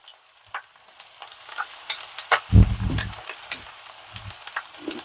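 Sliced onions frying in a pan, a quiet steady sizzle with a louder burst of hissing and stirring in the middle, then settling back to a soft crackle.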